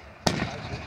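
Single sharp firework burst at a fireworks show on a farm in Fayette County, a sudden loud pop followed by a crackling, rumbling decay.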